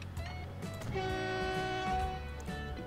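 A train runs on track in the rail-building game Transport Fever, a sustained rumble with a long steady horn-like tone sounding over it, fairly loud, with no talking.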